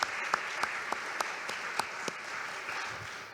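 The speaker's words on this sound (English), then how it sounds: "Let's give them one more round of applause." An audience at a lecture gives a brief, moderate round of applause, a dense patter of clapping heard at medium distance, with no voices over it.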